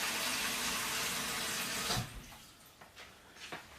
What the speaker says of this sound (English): we're going to add just under 4 litres of water